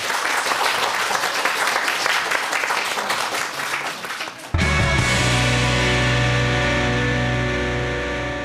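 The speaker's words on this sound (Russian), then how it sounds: "Максим, вам аплодирует студия." Studio audience applause on a Russian-language quiz show, a dense burst of clapping for about four and a half seconds that cuts abruptly into a loud sustained musical sting.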